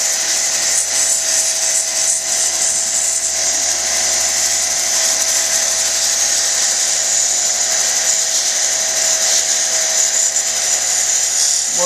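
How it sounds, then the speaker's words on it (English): A chrysocolla cabochon is shaped against a 280 grit soft wheel, giving a steady, loud, high-pitched grinding whine that runs without a break from start to finish. "Gonna move to the 280 grit soft wheel. Just keep shaping it and refining the shape."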